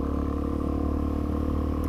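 A DRZ400SM petrol motorcycle engine with the throttle released, a steady low rumbling drone with faint clatter, fairly close and alone without talk.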